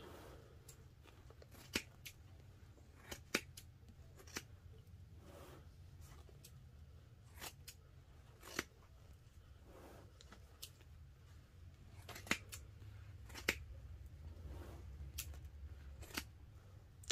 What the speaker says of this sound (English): I probably shouldn't be cutting this batting with these scissors.